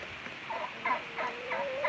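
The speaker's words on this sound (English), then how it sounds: "come on, turkeys, let's go. One of them is still making sounds at me, but isn't coming out." Turkeys gobbling and calling at a backyard flock, a string of warbling, chattering calls that repeat through the clip at close to moderate range with no talking.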